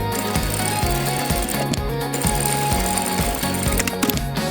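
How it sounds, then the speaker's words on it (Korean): A sewing machine topstitches a seam on small doll pants, giving a fast, rhythmic mechanical clatter in repeating bursts, close and steady throughout. "여기 상침선대로 상침해줄게요."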